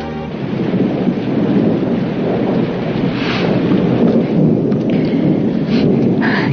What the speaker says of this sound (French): C'était l'orage, il y a eu un éclair.